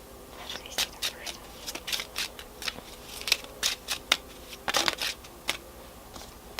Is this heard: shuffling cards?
yes